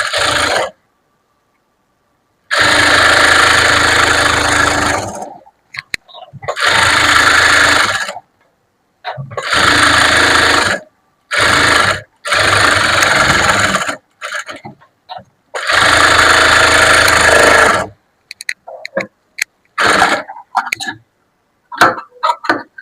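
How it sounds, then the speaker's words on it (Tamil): An electric sewing machine stitching fabric around the edge of a garment: several bursts of steady whirring a few seconds each, separated by pauses, close and loud, ending in a scatter of small clicks and handling noises. "சுத்தில தான் தையல் போட போறோம்"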